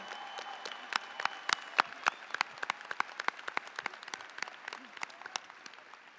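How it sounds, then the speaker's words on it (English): Audience applause at a high school graduation ceremony, a sparse crowd clapping with many distinct individual claps spread steadily across the moment at moderate distance, fairly quiet overall. "a big round of applause for adding to our ceremony this morning"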